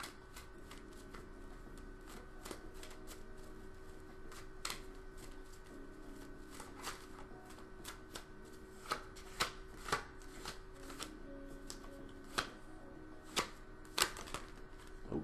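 Tarot cards are shuffled steadily, the close, quiet riffling and slapping running throughout, with sharper flicks and snaps as cards spill out toward the end.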